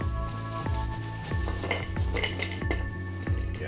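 Crushed ice pieces are dropped into a cocktail glass while a caipirinha is made, giving a run of sharp clinks and clatters over a steady background hum.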